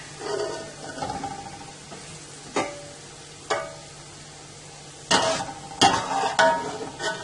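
Golden-brown onions for Punjabi kadhi pakora are lifted out of hot oil in a pan, with a soft background sizzle broken by several sharp scraping and clattering utensil strokes, all without talk.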